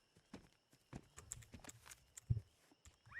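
Horse hooves clip-clop in Ark Ragnarok Ascended, a light, uneven run of soft close steps over about three seconds, with faint game ambience behind.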